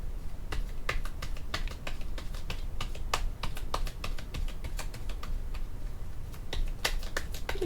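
Tarot cards drawn and handled during a reunion love-fortune reading, giving a steady run of crisp, close taps and soft card snaps spread evenly throughout, with no talking.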